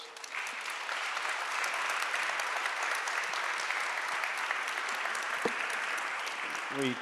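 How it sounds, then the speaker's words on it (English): Audience applause for a panel at the close of a talk on free expression and online information regulation: dense, sustained clapping from a sizeable crowd, steady and loud throughout, with a brief voice near the end. "Can you give them a big round of applause?"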